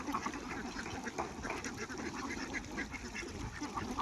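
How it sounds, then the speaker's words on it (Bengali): Ducks on a duck farm in a confined rearing setting quack in a steady, overlapping chorus of many birds, moderately near and fairly quiet, with no talk over them. "কি সুন্দর হাঁসের গঠন দেখেন"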